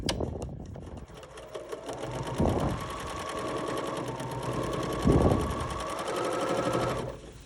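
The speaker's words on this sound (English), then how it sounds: "that's going to help feed this fur right through the machine." A sewing machine with a D foot and dual feed stitches through fur in a rapid, steady mechanical chatter, close and alone, pausing briefly twice with soft handling noises before stopping.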